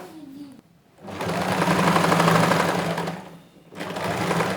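A sewing machine stitches a trouser waistband in two steady, fairly loud runs, each a few seconds long, with a short pause between them.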